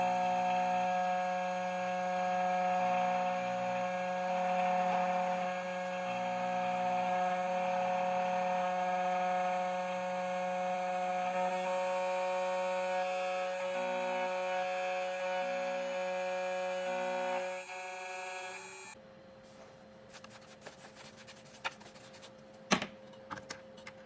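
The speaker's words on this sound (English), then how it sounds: "Take the proper key blank and install the key on the clamp. Click continue and cut the key." A 2M2 Tank II Pro key cutting machine cuts a Volkswagen HU162T key blank, a steady motorized whine with a faint rhythmic pulsing for about eighteen seconds, then quieter clicks and small mechanical knocks.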